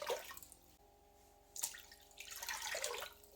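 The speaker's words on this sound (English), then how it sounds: "All we need to do to get going is get 6 cups of water into our Foodi." Water poured from a container into a Ninja Foodi multicooker pot, a steady splashing stream that breaks off, then resumes more strongly with bright watery spatter, close by and with no talk.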